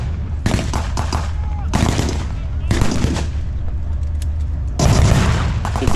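Tank-mounted .50 and .30 caliber machine guns fire in several loud, rapid bursts with short pauses between them, booming and close by at a tank show.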